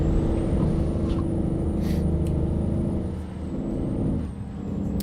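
Freightliner Cascadia semi truck in a trucking game, a steady low engine drone with wind and tire rumble, broken by a short hiss of air brakes partway through, heard alone without talk.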